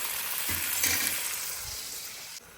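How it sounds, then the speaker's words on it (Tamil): Steady frying sizzle with crackling bursts from vegetables and crushed garlic sautéing in a pan, continuous and close, with a few stirring clatters. "நல்லா வதங்கட்டும்."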